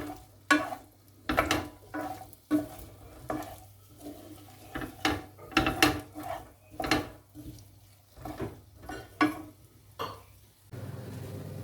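Soft sizzling of onion and garlic frying in a pan for goulash, with repeated scraping and stirring clatter of a utensil against the pan, steady rhythm, fairly close.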